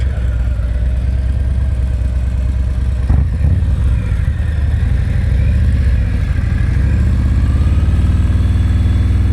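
A motorcycle engine during slow-speed riding practice runs continuously close by at low revs, with a brief disturbance partway through and a rumbling, uneven idle toward the end that fits the engine stalling.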